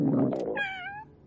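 Cartoon cat Mr. Kat lets out a single drawn-out meow, starting low and rough then rising into a clear, tonal wail that fades out, close and alone.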